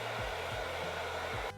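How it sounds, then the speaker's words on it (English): A handheld hairdryer blowing on low heat over a wig doused in hairspray: a steady, close whooshing roar with faint periodic low thumps, cutting off abruptly at the end, no voices. "then blast it with some low heat on my hairdryer"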